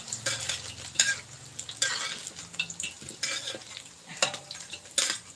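Fish frying crisply in hot oil in a home kitchen, a steady sizzle broken by sharp clanks and scrapes of a utensil stirring and turning the pieces in the pan.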